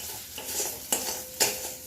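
A spoon stirs and sautés elephant foot yam curry spices in oil in a pan. A steady soft sizzle runs under the stirring, and two sharp clinks of the spoon striking the pan stand out.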